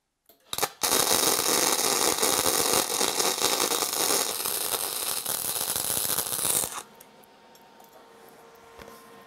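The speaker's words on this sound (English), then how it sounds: "So let me get this tacked together first, and we'll get the other side welded up" Tack welding on a metal center finding tool: a loud, dense crackling hiss starts abruptly, holds for about six seconds close by, then cuts off, leaving a quiet background.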